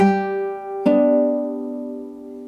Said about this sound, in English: the picking for this chord is string 1 and string 4 hit together